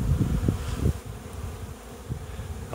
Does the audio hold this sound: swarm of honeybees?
yes